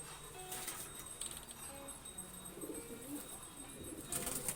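Closed-tail high-flying pigeons give soft, low coos, faint against a quiet background hiss, with a few coos spread across a few seconds.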